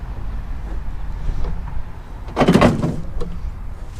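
Heater box blend door from a 1966 Dodge Charger, cable-operated, shifting with a brief scraping clatter and a short rustle afterward, heard against a low, steady background rumble.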